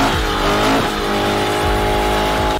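A 2-stroke nitro RC car engine runs loud and close, holding a high, buzzing whine with slight dips in pitch before cutting off abruptly near the end.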